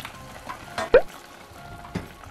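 Pork and carrots stir-fried in a pan, heard as a low sizzle broken by a few distinct spatula scrapes and tosses close by, with no talking.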